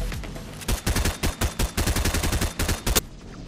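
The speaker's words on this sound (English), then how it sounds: "What if I just fired a random shot?" Rapid gunfire rings out in Fortnite, a string of about fifteen sharp, loud shots in quick succession over roughly three seconds, close and clear with no talking.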